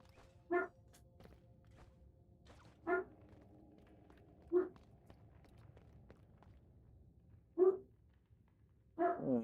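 A single dog barks in short, separate bursts, about five of them spread over several seconds, fairly close and alone above a low, steady background hum, with a couple of the barks coming in quick doubled pairs.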